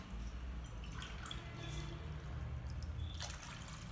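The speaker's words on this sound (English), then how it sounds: "So again I am going to add 2 cups of water." Water pours steadily into a cooking pot, a continuous splashing trickle that stays even throughout, close by.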